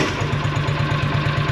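A John Deere Gator 6X4 utility vehicle engine, long unused, runs steadily after starting, its close, loud idle chugging in a rapid even rhythm with a rattly mechanical edge throughout.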